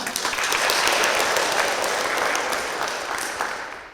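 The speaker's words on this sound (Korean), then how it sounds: "큰 박수로 환영하겠습니다" A congregation at a Catholic Holy Spirit seminar welcomes a visiting nun with warm applause, dense and loud from the start, holding steady before tapering off near the end.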